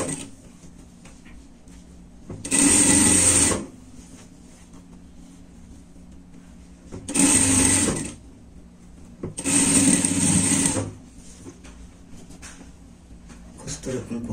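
A sewing machine stitches the seams of a lined teddy-bear pet jacket in three short bursts of fast whirring, each about a second long, with a person talking in the quieter stretches between.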